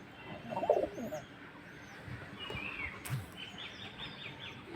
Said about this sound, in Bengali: প্রিয় দর্শক বন্ধুরা, এখানে দেখছেন তিনটা কবুতর, এখানে দুইটা, এখানে একটা, এখানে একটা।